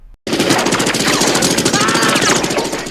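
Rapid bursts of automatic gunfire rattle continuously after a brief silent gap, loud and dense, with faint shouting mixed in.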